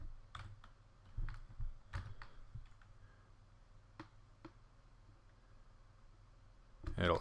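Computer keyboard typing of a username comes as sparse, crisp individual keystrokes spread over several seconds, with a louder clatter of keys at the end.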